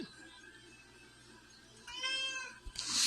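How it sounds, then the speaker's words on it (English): A kitty cat gives a short meow, then a louder higher cry near the end, both close and clear over a low steady background hum. "Shout out to the kitty cat."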